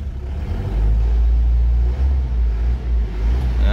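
Car engine revving hard, a deep loud rumble that swells and holds with slight dips, close by and alone, from a turbocharged car with the turbo timer active.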